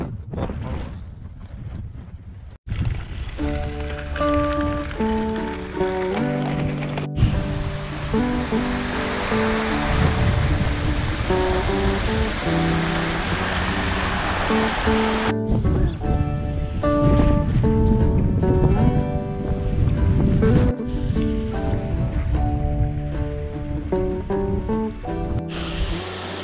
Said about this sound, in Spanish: se puso fuerte el viento